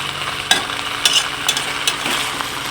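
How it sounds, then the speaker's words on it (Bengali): Spices being stirred into food frying in a pan, with a steady sizzle broken by several distinct scraping strokes of a spoon against the pan, close and fairly loud, with no voices. "এই যে ভালো করে মশলা লাগিয়ে নিচ্ছি"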